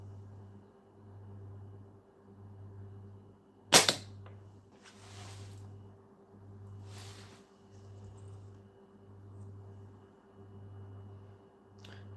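A slingshot shot fires once as a sharp close snap with a short rattle after it, followed by a few fainter scuffs, over a quiet rhythmic hum in the background.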